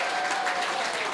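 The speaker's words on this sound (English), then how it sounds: "Can I hear a big round of applause from this side of the room?" A big round of applause from one side of a room during a community event, dense and steady clapping filling the space at close range without pause.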